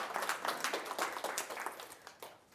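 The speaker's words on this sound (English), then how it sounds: "Nice round of applause for Jackie." A conference audience gives faint, scattered applause, a brief patter of claps heard from a distance that fades toward the end.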